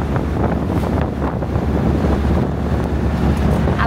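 Strong outdoor wind buffets the microphone in a constant loud roar with gusty swells, no voices heard.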